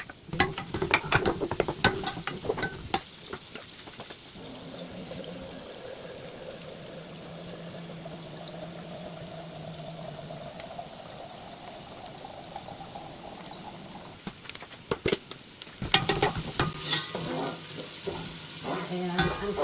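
Garlic fries in hot oil in a pan, a steady sizzle under intermittent scraping and stirring clatter that grows busier toward the end.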